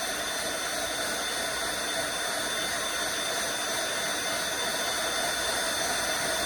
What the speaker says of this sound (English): I'll take this heat gun and I'll heat all around it for, well, up until it's hot